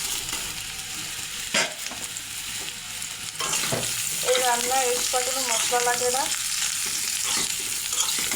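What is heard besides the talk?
steamed turnip frying and being stirred in a pan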